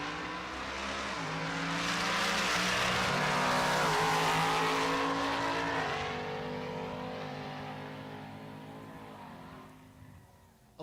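A Ford Mustang and an F-150 pickup drag race at Pueblo Motorsports Park. Loud engines rev and roar as the pair launch and accelerate hard, the sound swelling and then fading into the distance over several seconds.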